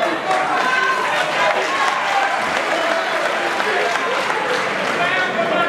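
Crowd at a political opposition rally applauding loudly and steadily, a dense wash of clapping and cheering with voices mixed in throughout.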